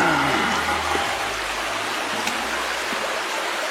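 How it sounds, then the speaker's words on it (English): Underground water from a deep aquifer rushing along a cave-like passage like a river, a steady, full, close roar of flowing water with a brief voice at the start. "You see that water's just flowing down here, man, like a river."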